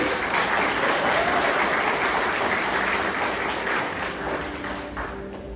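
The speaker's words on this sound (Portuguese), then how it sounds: "pode aplaudir" A church congregation applauds during a Sunday service, a steady wash of clapping that fills the room and tapers off slightly toward the end.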